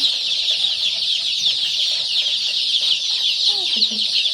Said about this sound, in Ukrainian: Курчатка хочуть їсти вже.